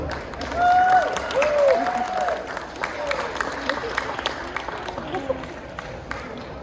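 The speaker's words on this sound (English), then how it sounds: "So let's give a round of applause for Kim Rooster Rossiter." Audience applause at an expo keynote for the arriving speaker, moderate clapping from a crowd that rises and falls, with voices and tonal calls or whistles sounding over it.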